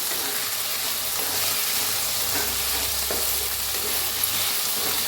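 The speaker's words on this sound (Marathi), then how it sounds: "बटाटो भाजून घेऊया हलवून घेऊया" Potatoes fry and get stirred in a hot pan, a constant close sizzle broken by soft scraping and turning sounds, with no speech.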